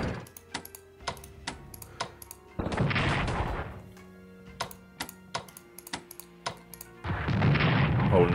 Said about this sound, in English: the artillery really hitting hard